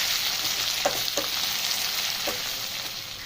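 Chicken liver fries with ginger garlic paste over low flame, a dense steady hiss of sizzling oil with a few soft stirring scrapes, close and continuous without talk.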